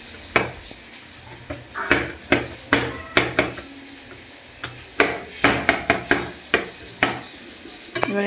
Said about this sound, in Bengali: কেটে নিয়ে একটু কাটিং করে নেব